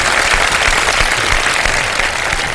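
A studio audience at a live iftar television show bursts into loud, dense applause, many hands clapping at once in a continuous roar.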